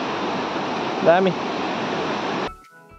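A loud river rushing below a bridge on a hill route between Pedong and Latpanchar, a dense, steady roar close by. A voice speaks briefly midway, then the roar cuts off abruptly near the end.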